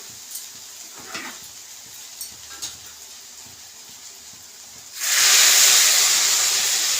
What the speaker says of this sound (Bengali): চলো এবার গরম জলটা দিয়ে দিচ্ছি